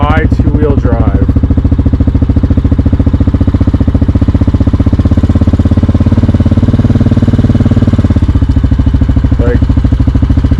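A 2022 Yamaha Grizzly ATV idling in neutral, a loud, steady low engine rumble throughout with a brief voice at the start.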